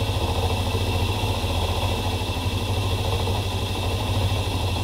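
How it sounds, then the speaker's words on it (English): An electric motor runs without the rodin coil connected, a steady, even humming drone with a low throbbing vibration that holds constant throughout, with no voices. "this is just the regular motor output without connection to the rodin coil"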